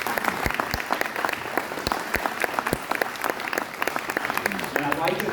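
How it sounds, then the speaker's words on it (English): An audience at a county Lincoln Reagan dinner applauds, dense steady clapping from many hands filling the room, close and loud, with scattered sharp individual claps standing out throughout. "Can we give all of them a round of applause?"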